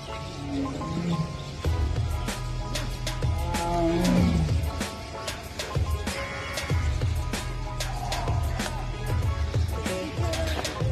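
A white tiger at the Delhi National Zoological Park gives several deep, rumbling roars and growls close by, spread across the clip over a steady background hum, with faint voices in places.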